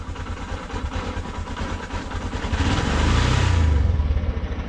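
A Euro 5 Honda CB125F motorcycle with an electronic jet kit idles with a low, rapid pulsing thrum, swelling briefly louder as it revs slightly, then settling back; no talking.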